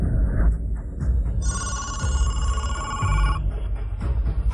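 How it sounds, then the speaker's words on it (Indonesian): A telephone rings with a repeated electronic bell-like trill, loud and close, over a low rumbling background, lasting a couple of seconds in the middle. "Aku akan telepon sekarang."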